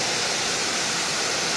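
Cascade Falls in Jefferson National Forest, Virginia, gives a steady, dense roar of falling water over rocks. It is close, loud and unbroken.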